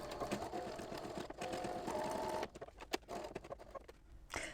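An embroidery machine stitching around a test stitch-out, with a continuous close mechanical whirring hum for a couple of seconds, then sparse irregular clicks and taps.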